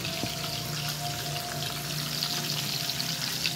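Onion, garlic and ginger sizzle steadily in a hot pan for escabeche tilapia, a continuous close frying hiss with no talk.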